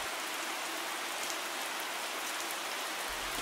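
Steady rain falls across a woodland habitat where badgers forage, a dense, even hiss of drops on wet ground and foliage that holds constant throughout with no voices.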